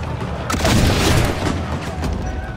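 Swivel guns fire a couple of shots during a ship boarding in Assassin's Creed Black Flag, heard as dense, rumbling gunfire booms that roll continuously at close range with no talking.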